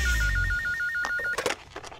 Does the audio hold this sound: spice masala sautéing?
no